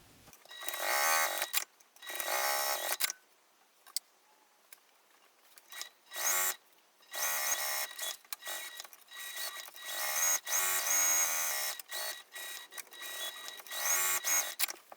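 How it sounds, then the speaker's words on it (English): A sewing machine stitching around the edges of a fabric gusset for a bag, running in quick bursts of rapid, buzzy stitching with short pauses between them, fairly quiet and close, with no talking. "I'm just going to sew all around all the edges of the gusset to make it one piece"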